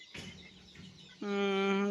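Country chicken chicks in a partitioned coop give soft cheeps and clucks, and then a sustained, harmonic call rises clearly near the end, close by with a faint voice in the background.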